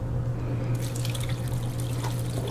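Hot water that chiles were boiled in, about half a cup, pours over dried red chiles in a home kitchen, a steady close splashing, trickling stream running throughout with a constant low hum beneath.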